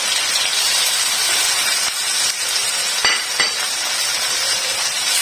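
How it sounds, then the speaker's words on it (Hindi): Chicken pieces frying in a pan with masala for a white bean curry, a steady broadband sizzle with a few light clinks of a utensil against the pan, close and continuous with no speech. "और चिकन को इसके साथ थोड़ा फ्राई कर लेंगे।"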